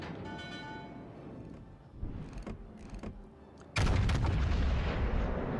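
Naval guns firing from warships in the World of Warships: Legends video game, with scattered booms and mechanical clanks building to a heavy blast that rumbles and fades.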